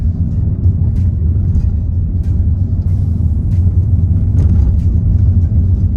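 A car drives along a forest road, a loud steady low rumble of engine and tyres with occasional faint ticks and bumps.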